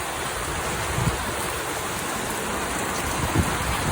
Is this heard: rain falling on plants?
yes